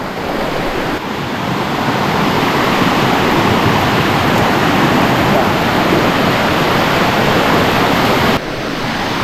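Heavy rain and rushing water from a swollen hill waterfall at Shohosrodhara in Sitakunda, a dense, steady roar filling the whole clip, loud and close, with no voices.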